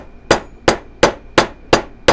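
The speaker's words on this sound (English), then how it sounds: "you can go into the dapping block using my flat face hammer" A flat face hammer strikes metal tubing set in a steel dapping block while a spinner bead is shaped. Six sharp, ringing metallic clangs come at an even pace about a third of a second apart, loud and close, with no voices.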